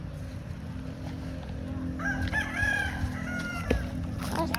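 A rooster crows loudly nearby in a long drawn-out call, followed by a few shorter clucks, over a steady background hum.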